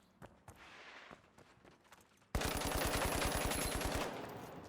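A heavy machine gun in a first-person shooter fires one long, rapid, evenly spaced burst of loud shots lasting under two seconds, after a few faint clicks and taps.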